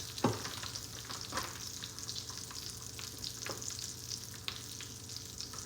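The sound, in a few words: grated coconut being roasted in a pan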